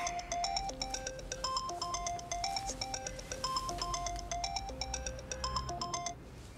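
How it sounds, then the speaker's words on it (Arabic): A mobile phone ringtone plays a bright, repeating electronic melody of stepped beeping tones, fairly loud and close, running steadily for several seconds on its own before cutting off. "يا أستاذ هلال معلش، كنت مشغول ما عرفتش ارد عليك"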